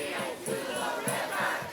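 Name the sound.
protest crowd outside a hotel on Melrose Avenue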